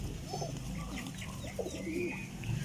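Pigeon cooing at fairly close range, a few soft low burbling coos in irregular bursts over a faint background with light rustling.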